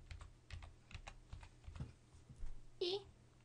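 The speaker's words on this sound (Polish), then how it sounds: "w górnym pasku adresu wpisujemy nazwę tego programu" Keys clatter as a program name is typed into a browser address bar on a computer keyboard, a quick run of close, light taps with uneven spacing and a few faint background murmurs.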